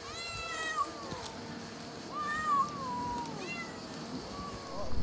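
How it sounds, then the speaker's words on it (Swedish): Several cats meow repeatedly, close by, in a series of rising and falling calls at a roadside stop in Greece near the North Macedonian border, with faint background noise between the cries. "Och här har vi 8 katter nu som"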